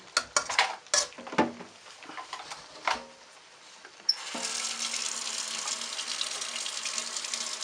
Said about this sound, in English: You can probably add a bit more water.